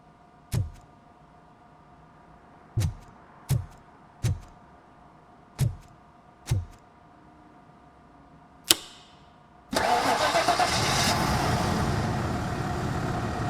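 A car engine in the video game RoboCop: Rogue City cranks and catches, bursting into a loud, steady running roar after several sharp isolated clicks and knocks, with no talk.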